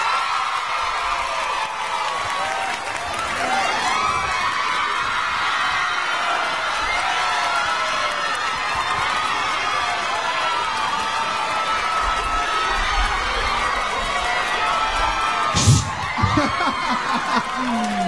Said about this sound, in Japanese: 大きな拍手と歓声でお迎えください。